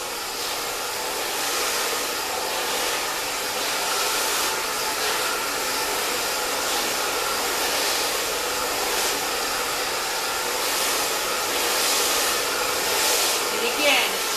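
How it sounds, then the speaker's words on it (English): A handheld hair dryer with a nozzle blows continuously while a stylist dries and styles a bob for volume in a salon, a steady close whooshing roar with slight wavering as it moves, no talk. "it's very important to keep the dryer moving"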